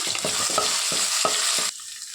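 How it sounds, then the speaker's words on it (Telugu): Ginger-garlic paste frying in a pan for egg biryani, with close, steady sizzling and repeated scraping stirs that stop abruptly near the end, leaving a quieter hiss. "నెక్స్ట్ ఇందులో 1 టేబుల్ స్పూన్ వరకు అల్లం వెల్లుల్లి పేస్ట్ యాడ్ చేసుకోవాలి. పచ్చి వాసన పోయేంత వరకు బాగా మిక్స్ చేసుకోవాలి."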